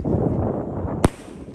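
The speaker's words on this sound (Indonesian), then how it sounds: "Nyala mercon Kriko Big." A single sharp crack from a Kriko Big firecracker, loud and abrupt, bursting out over steady outdoor background noise and leaving a brief fading tail.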